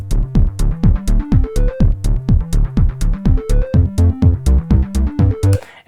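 Synth chords made in Logic Pro, recreating a track from The Social Network, pulse in a steady staccato rhythm while a filter sweeps upward each bar, loud and alone.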